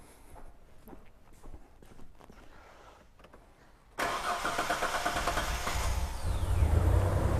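A Hyundai Terracan with a misfire fault cranks after a fuse is reinstalled: quiet shop clatter first, then the starter and engine abruptly kick in loud at about four seconds and grow rougher and heavier toward the end.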